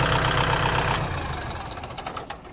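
A Kubota L4708 tractor diesel engine idles with a steady, rhythmic knocking chug, loud and close, with no talk over it.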